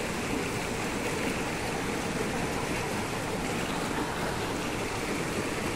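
Water flowing steadily as someone fetches water, a continuous broadband rush with no breaks, close and even in level, with no talk over it.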